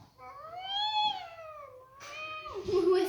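A person's voice imitates a cat, giving a long rising-and-falling meow followed by a second, shorter and harsher meow, close and fairly loud.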